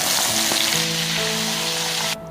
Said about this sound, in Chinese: 大虾撒上淀粉煎一下